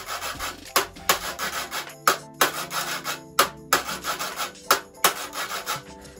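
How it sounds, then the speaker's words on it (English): Metal spoon scraped along the smooth side of a classic kitchen grater, played as a percussion instrument: a steady groove of rasping strokes, each starting with a sharp attack, repeating at a quick, even pulse over a faint musical backing. "Another cool instrument you could use is your classic grater."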